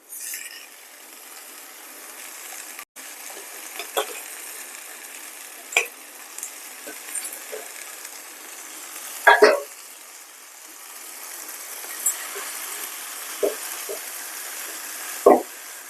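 Gongura leaves fry in a pan with a continuous, even sizzle lasting throughout, marked by occasional sharp clicks and scrapes of a spoon stirring against the metal.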